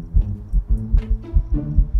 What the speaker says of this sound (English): I hear your heartbeat